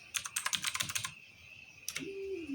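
Quick bursts of keystrokes on a computer keyboard, a rapid clatter of a dozen taps, a pause, then a couple more presses, close and crisp.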